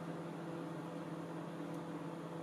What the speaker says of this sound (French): Je programme mon four en pleine puissance de micro-ondes pour 20 secondes.